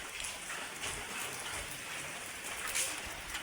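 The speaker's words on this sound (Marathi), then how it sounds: "पाऊस पडतोय" Rain falling in a soft, steady hiss at a temple in Kolhapur, faint and continuous, with light patters of drops throughout.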